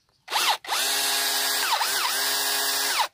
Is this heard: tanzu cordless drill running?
yes